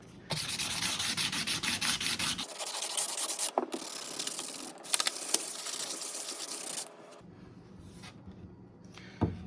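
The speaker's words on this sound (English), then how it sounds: "coming here with even higher grit sandpaper now. Get those edges, the little corners. Don't forget to get your spine." Rusty knife being hand-sanded with higher grit sandpaper along its edges and spine, rapid rhythmic rubbing strokes in close bursts, broken by brief pauses, with no talking.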